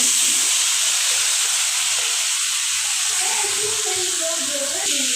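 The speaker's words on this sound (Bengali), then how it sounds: "এই যে এখন আমি ভাজি দিয়ে দেব।" Steady, loud sizzling hiss of tomatoes and onion shoots frying in a hot pan, continuous throughout, with faint tonal clinks near the end.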